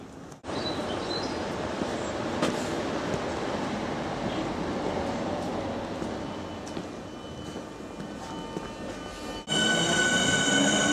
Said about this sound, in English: just in time to see this train depart